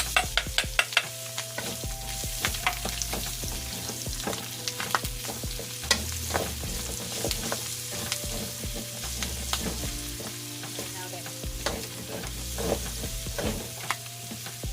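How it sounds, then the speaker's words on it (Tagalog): Lots of garlic sizzles and crackles steadily in hot oil in a pan while being stirred, with scraping clicks from the utensil throughout; close, continuous, no talking. "Lutuin muna natin yung bawang."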